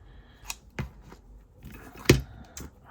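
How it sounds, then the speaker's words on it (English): Pinking shears trim a piece of fabric in a few separate, crisp snips spread apart, with one louder cut near the end, close and otherwise quiet. "I want to grab my pinking shears and trim that piece off"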